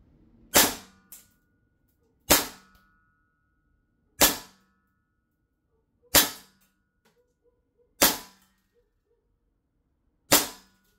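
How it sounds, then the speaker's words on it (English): A CO2-powered airsoft gun on a fresh can fires six sharp, loud shots spaced about two seconds apart, each snapping crisply and then decaying quickly, with near silence between them and no voices. "All right, let's start the FPS test with the CO2. Okay, FPS test with a fresh CO2 can."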